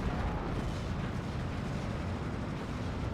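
Mortar barrages rumble continuously in the WWII strategy game Steel Division 2, a dense, steady low boom-heavy roar with no clear separate impacts, fairly loud throughout.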